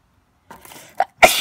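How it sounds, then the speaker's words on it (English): A single sneeze, with a soft intake of breath before it and a sharp, loud burst at the end, close to the mic in an otherwise quiet room. "That sneeze was not planned, but that was super comedic"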